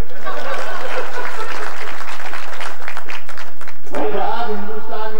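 Audience at a Hindi kavi sammelan poetry recital in Jhansi breaks into loud, dense applause with some laughter, then it cuts off abruptly as a voice starts speaking.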